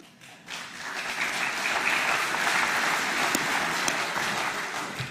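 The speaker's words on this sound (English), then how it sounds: "it's the men who are clapping, not the women." Steady applause from a UKIP conference audience, dense clapping that swells in after a brief quiet start and holds strong to the end.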